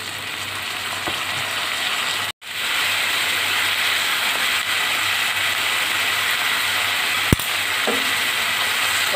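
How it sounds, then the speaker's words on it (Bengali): Bitter gourd sizzles in oil in a home kitchen pan, a steady close hiss of frying that runs on with one brief dropout and a single sharp click near the end. "এখন আমি করলা ভাজি করে নেবো।"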